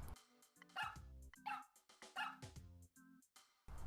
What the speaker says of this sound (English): you can click the puppy and it'll bark and undo the last thing you just did